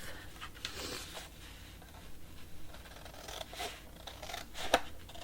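Scissors snipping the corners off paper for a handmade mini album, several crisp close cuts spaced irregularly over quiet room tone with soft paper rustling between them.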